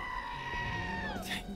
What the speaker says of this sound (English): Oh, that fucking goat